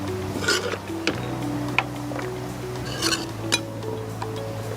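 Fried ingredients for a millet biryani scooped from a pan onto a plate in a home kitchen: a few sharp metal clinks and light scraping taps at irregular intervals, close by, over a steady low background hum.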